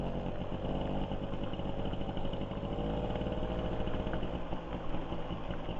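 A GAC SP96 Grand Turismo moped's small engine labours uphill with a steady, loud, rattling putter heard up close, its low rhythmic firing constant throughout with no talk.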